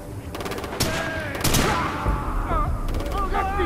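Rapid automatic gunfire in Far Cry 3 aimed at a vehicle's tires, several quick bursts of shots in close succession over engine noise and game effects, with shouting voices in between.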